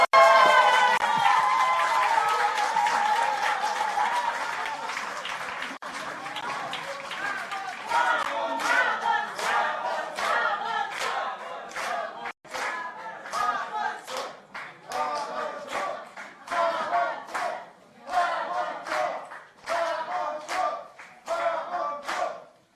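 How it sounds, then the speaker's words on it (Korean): Studio audience clapping and cheering to welcome the Seoul mayor onto a live Korean political debate stage, a sustained loud wash of applause that later breaks into choppier bursts. "큰 박수로 맞이해주세요."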